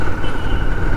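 A Royal Enfield Continental GT650 motorcycle is ridden on a gravelly road, its engine giving a loud, steady drone mixed with rushing wind noise, close and continuous through the moment, with no talk.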